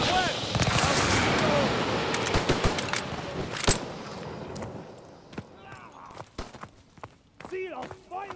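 Gunfire crackles in a Call of Duty WW2 battle on Xbox One: scattered loud rifle and machine-gun bursts, sharp individual cracks and distant thuds, with shouted game voices over the fighting.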